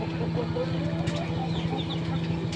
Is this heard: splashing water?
no